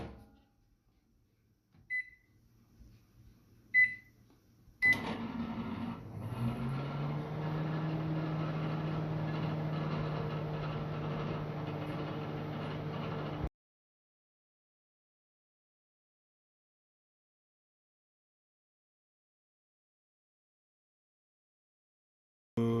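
A microwave oven hums steadily for about nine seconds after a door thunk and button beeps, its low drone close and even, then cuts off abruptly into silence.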